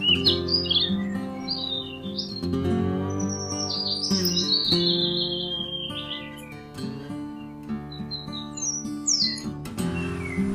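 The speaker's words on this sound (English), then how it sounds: "This is sparrow." A sparrow chirps in quick, high, repeated tweets and short squawks over a steady musical backdrop, fairly close and clear throughout.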